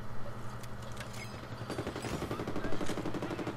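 Rapid bursts of automatic gunfire in Medal of Honor (2010), a steady rattle of close shots over a low background rumble.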